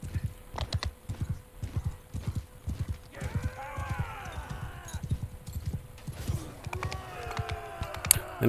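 Horse hooves gallop in a steady, rapid clip-clop rhythm across a Mount and Blade 2 Bannerlord battlefield, with a brief whinny rising partway through and ambient game sound underneath.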